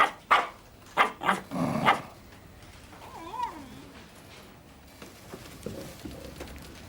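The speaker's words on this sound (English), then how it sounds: "Oh, now you've done it. You've got her barking." A dog gives several sharp barks in quick succession, followed by quieter whining and a few softer yelps.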